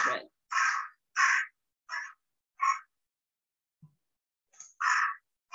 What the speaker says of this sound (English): So you're probably all quite familiar with that caw of a crow.